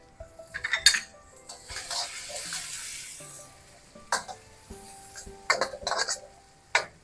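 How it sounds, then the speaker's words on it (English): Minced garlic, three cloves, fries in a pan as a soft sizzle under scattered spoon scrapes and clinks of utensil against the pan, close and fairly quiet, for Indonesian fried rice. "we're going to add in 3 cloves of garlic, minced, and let that go for another minute"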